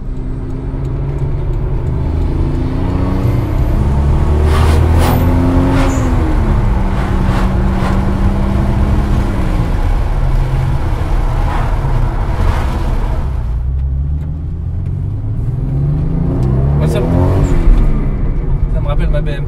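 A modified Toyota Supra engine revs and accelerates on the road, its pitch rising and falling through several gear changes, loud and close, with a brief lull before one more strong climb.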